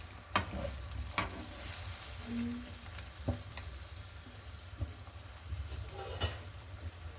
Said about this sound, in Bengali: সো চিকেনটা আমরা এইভাবে ঢাকা চাপা দিয়ে দিয়ে কিছুক্ষণ রান্না করব।